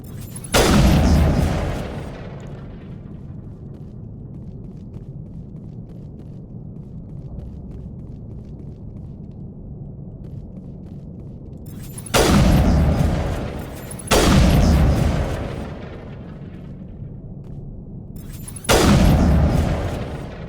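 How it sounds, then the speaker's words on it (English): Bombs exploding in the video game Mass Effect: one heavy blast, then three more booming detonations in close succession after a long lull, each loud, broad and rumbling before fading. "just preemptively destroy all of the bombs"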